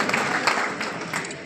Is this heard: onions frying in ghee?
no